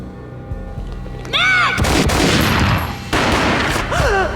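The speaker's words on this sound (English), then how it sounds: "A gunshot boomed and she fell down in slow motion." Gunfire in the video game Max Payne, loud booming shots with a heavy burst near the middle and another blast a second later, set among swooshing slow-motion game effects and no talking.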